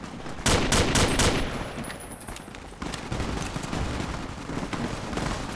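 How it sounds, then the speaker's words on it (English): Gunfire in Fallout: New Vegas, several rapid loud shots bunched at the start, followed by a rougher, lower stretch of continuing fire and noise. "Who's shooting me?"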